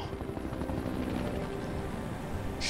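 A helicopter in the Resident Evil 5 video game throbs steadily with a constant rotor drone, moderately loud and unbroken throughout.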